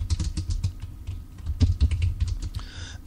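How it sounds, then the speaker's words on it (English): A computer keyboard clatters under quick, uneven typing, dense runs of close clicking keystrokes with brief gaps, moderately quiet and without any talk. "I'm typing at the same time."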